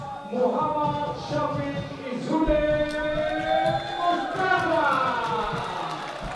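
Applause and crowd noise rise around a football pitch for Kelantan Red Warrior FC players during a Liga A1 Semi Pro match, partly under a commentator's voice.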